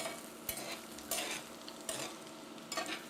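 Vegan balls frying in a pan, a steady close sizzle broken by sharp scrapes and stirs as they are turned to crisp the outside; no talking.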